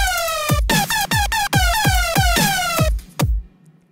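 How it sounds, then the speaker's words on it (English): Reason Thor synthesizer lead playing a quick rhythmic run of harmonic-rich notes, each opening with a pitch swoop, loud and dry, alone with no voice, then cut off into near silence. "the synth should sound something like this"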